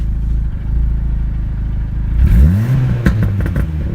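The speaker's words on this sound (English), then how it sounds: "This is my startup for basically every day when I start the car." A big-turbo Dodge SRT-4 Neon engine cranks and fires up loudly, its revs sweeping upward before settling into a rough, rumbling idle with some clatter and exhaust pops.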